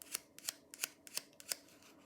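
A paper soap sheet is handled and crinkled close up, giving six short, crisp rustling snaps at a fairly even rhythm, quiet and alone.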